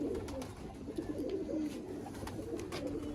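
A male Teddy pigeon coos in low, repeated murmuring phrases, close by and steady throughout, with no talk over it.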